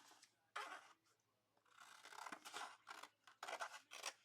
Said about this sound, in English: Let's get out the scissors.